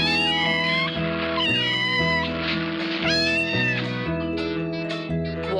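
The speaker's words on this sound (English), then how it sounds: "it's a kitten." A small kitten mewing repeatedly in clear, high-pitched cries, close and fairly loud, several calls in quick succession over a steady musical backing.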